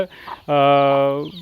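A backyard flock of native country hens and Aseel chickens: one hen gives a loud, sustained, drawn-out call up close after a brief softer sound.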